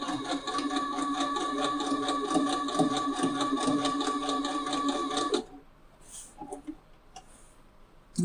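A sewing machine back stitching a fabric hair clip runs steadily with a fast, even mechanical rattle for about five seconds, then stops, leaving quiet room noise with faint handling sounds.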